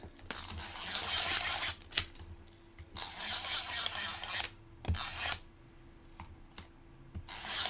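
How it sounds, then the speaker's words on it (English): A snail tape runner lays tape on a craft project, giving several rasping, rubbing bursts of varying length with short clicks between them, close and moderately loud, with no voices. "So I'm going to take that snail tape runner, add my tape,"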